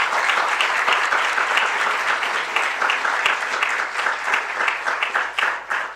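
Strong, sustained applause from an audience at the opening ceremony of a Latin American political ecology congress fills the room, dense and steady, then thins slightly toward the end.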